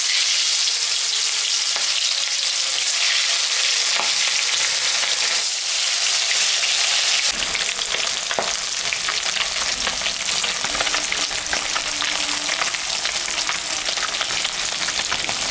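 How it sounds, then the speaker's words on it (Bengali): Salted, turmeric-rubbed rohu fish frying in hot mustard oil, a loud, continuous crackling sizzle right at the pan that grows rougher and more spattering partway through, with no voices. "মাছটা এখন আমি ভাজবো।"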